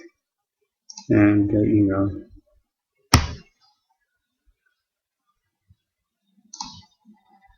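A computer mouse gives a single sharp click during a pause, with a spoken voice just before it and a faint tap later.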